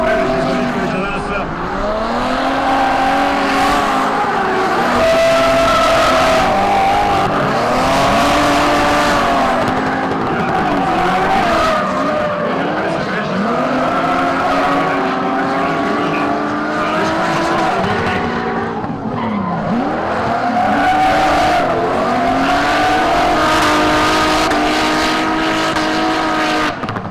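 Drift cars in a tandem twin run at a Croatian Drift Challenge round, engines wailing up and down as tires squeal and skid continuously and loudly, with a commentator talking over them.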